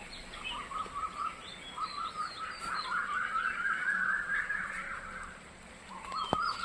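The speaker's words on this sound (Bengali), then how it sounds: "এদিকে পাখির ডাক, কোকিলের ডাক।" Morning birdsong outdoors, with a few chirps and a rising, repeated call that fits a cuckoo standing out over a quiet background, moderately faint and distant.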